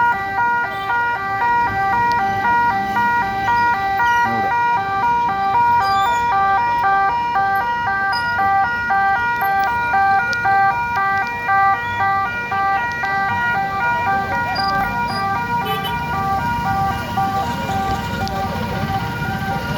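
An ambulance siren wails at the scene of a road accident in Talapady, where a KSRTC bus hit an auto-rickshaw. The repeating two-tone pattern is loud and continuous over road traffic rumble.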